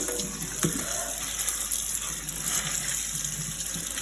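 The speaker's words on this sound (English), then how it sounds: "Wash your greens." Tap water runs steadily into a kitchen sink while greens are washed, a continuous close hissing gush with faint splashes and handling underneath, no talking.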